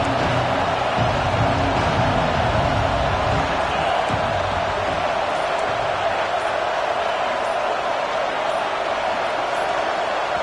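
A dense, roaring stadium crowd at a football game holds a loud, steady wall of noise throughout, with no break in the din.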